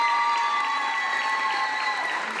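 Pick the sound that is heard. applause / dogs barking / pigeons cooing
applause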